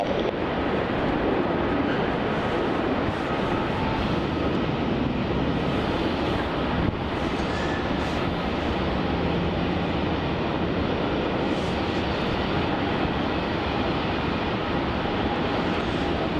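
Qantas airliner on flight QF171 lining up on runway 34 at Melbourne Airport, a steady broadband jet engine roar heard from a distance, constant and dense with wind buffeting the microphone throughout.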